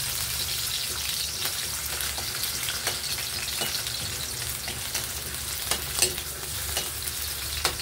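Potato pieces fry in a pan for a caldereta, giving a steady close sizzle with intermittent clicks and scrapes of a utensil stirring, and no voices.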